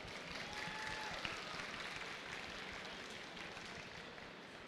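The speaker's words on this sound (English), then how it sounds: "Give them another round of applause, please." Applause from the audience at a hackathon opening ceremony, diffuse and fairly faint, holding steady throughout with no voices on top.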